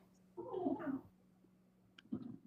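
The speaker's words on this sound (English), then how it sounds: "I'm hearing a cat." A cat vocalises twice, a longer drawn-out cry followed by a shorter one, faint and somewhat distant behind a quiet background hum with no talking.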